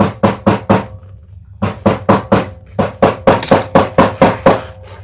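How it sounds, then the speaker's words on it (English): Mallet hammering in a rapid run of sharp, loud knocks, a short pause after the first burst, then steady rhythmic strikes again, close by and with no talk. "Hammering makes a huge difference."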